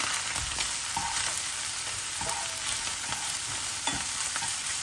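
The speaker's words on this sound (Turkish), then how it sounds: "Soğanlarımı hafifçe kavrulması için şöyle bir dakika karıştıracağım." Steady sizzling of onions frying in a pot, with a few soft scraping stirs at intervals and no voices.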